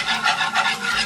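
Flour browning in hot oil in a pot for stew fish is stirred with a steady, close, loud scraping swish that rises and falls in rhythmic strokes with no pauses.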